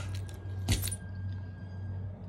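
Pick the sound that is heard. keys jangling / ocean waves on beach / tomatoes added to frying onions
keys jangling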